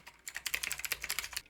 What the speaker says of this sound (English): As far as the stock experience goes, the keyboard is really hollow and pingy.